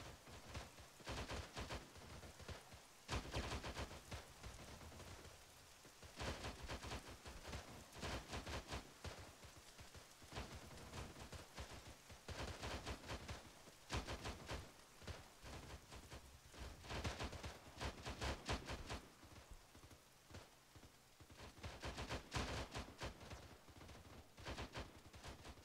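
Gunfire from the video game ARMA 3, with rapid machine-gun bursts and scattered shots from several directions, coming in clustered waves with brief lulls, fairly distant and soft against a constant crackling background.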